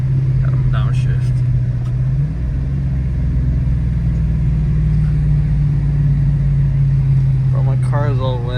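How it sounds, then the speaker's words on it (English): A Dodge Charger's engine drones in a loud, steady rumble as it downshifts while driving through a winter storm, its pitch shifting partway through. A brief voice is heard at the end. "we gotta slow down here, you know. Gotta downshift."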